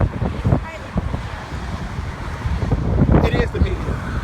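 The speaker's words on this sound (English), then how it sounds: "It's windy. Hope it's not too windy for y'all." Gusty wind buffets the microphone throughout an outdoor open-carry walk in Michigan, with low rumbling noise and brief voices mixed in.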